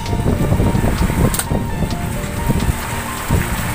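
Heavy typhoon rain from Typhoon Rolly pours down in a dense, loud, steady hiss, with drops pattering on nearby surfaces and gusts of wind underneath.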